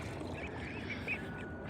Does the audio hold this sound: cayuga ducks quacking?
yes